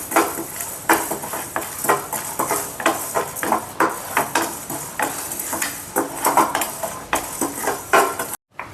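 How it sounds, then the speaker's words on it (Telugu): Black pepper and dry coconut being dry-fried for a chicken masala, heard as steady rhythmic scraping and stirring of a utensil against a metal pan with faint sizzle, close and repeated throughout, no talking. "ఒక 2-3 నిమిషాలు అయితే ఫ్రై చేసుకోవాలి కలర్ వచ్చేదాకా."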